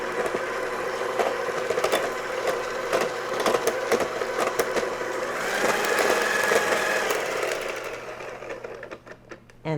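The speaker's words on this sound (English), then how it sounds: "I'm going to give it one more swirl with my electric mixer." Electric hand mixer whirring through coffee cake batter in a home kitchen, a steady mid-level motor drone with rattling beater texture that runs for most of the stretch, rises slightly in pitch partway through, then cuts off near the end.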